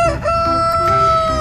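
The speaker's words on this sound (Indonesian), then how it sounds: "ini ada ayam berkokok" A rooster crows loud and close at a zoo, one long sustained cock-a-doodle-doo with bright harmonic tone that holds steady almost to the end.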